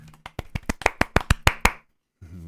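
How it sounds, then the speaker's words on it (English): About a dozen sharp, evenly spaced hand claps in a steady rhythm, close and crisp, stopping abruptly before a short low voice sound at the end. "Golf clap."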